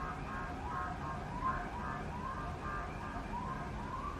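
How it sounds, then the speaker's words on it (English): An alarm or siren wails in a repeating rising-and-falling pattern, faint and distant, continuing steadily throughout. "I hate the sound of alarm."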